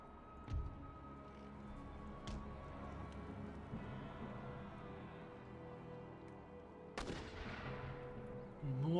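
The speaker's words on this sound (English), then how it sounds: "Mortars are still opening up." Mortar and gunfire in Empire Total War, a Venice campaign siege battle in Poland: a low rumbling din of distant booms with a few sharper reports, swelling into a louder blast near the end.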